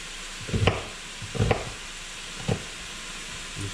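Hamburger meat sizzling in a pan under a steady hiss, with three distinct scraping stirs spaced about a second apart, close and clear with no talk.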